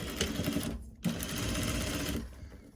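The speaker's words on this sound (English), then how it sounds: "we're gonna sew them both on the front" A sewing machine stitches face mask fabric close up in a rapid, steady whirring run, briefly stopping near one second before resuming and then fading near the end.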